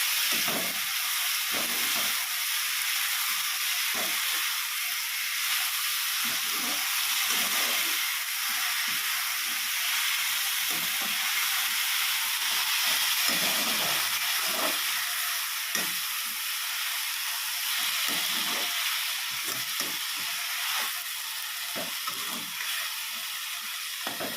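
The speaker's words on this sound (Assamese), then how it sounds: "আকৌ শাকৰ লগত অলপ ভাজিব লাগিব, ভাজিছোঁ" Leafy greens frying in oil in a pan, a steady close hiss and sizzle running throughout with occasional soft stirring knocks, no voices.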